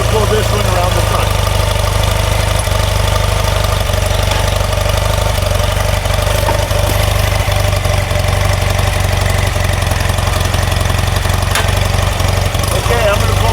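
A 1977 Triumph Bonneville or 1973 BMW R90/6 motorcycle settled at idle near 800 rpm, a steady low, continuous throb held close and loud throughout, with talk faintly over it.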